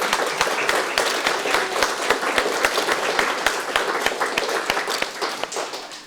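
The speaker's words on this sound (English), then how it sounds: "Let's give everybody, all these incredible artists, a big round of applause." A crowd at a fourth-grade art show applauds, with dense clapping and a strong steady beat of rhythmic claps throughout, loud and close, tapering slightly at the end.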